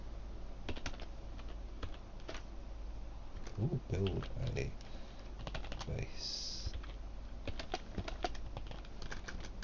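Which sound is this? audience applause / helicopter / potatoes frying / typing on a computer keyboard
typing on a computer keyboard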